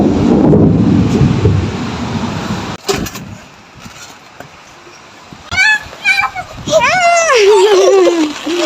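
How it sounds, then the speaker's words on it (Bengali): Heavy rain with a thunderstorm roars loudly, then drops to a patter after a sharp crack; children's and adults' voices chatter and call out over the downpour toward the end. "দারুণ দারুণ দারুণ বৃষ্টি নামছে"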